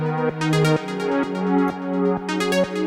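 Synth pad notes from a Digitakt 2 with parameter-locked filter and amp envelopes play close and clean, with no voices. The tones are sustained and layered, broken by rhythmic retriggers that give short plucky swells and cutoffs.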